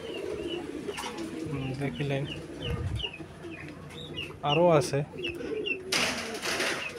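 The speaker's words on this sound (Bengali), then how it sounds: "এদিকে বেজান কবুতর আছে, অনেক কবুতর আছে" Fancy pigeons, including Danish birds, coo and flutter at a breeder's sale loft. Soft repeated coos and a few clucks come from several birds close by, and someone talks over them.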